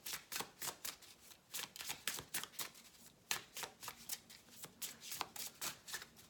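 A deck of cards is shuffled over and over in a steady run of quick riffling flutters and soft slaps. The sound is very quiet and close, with a faint voice in the background.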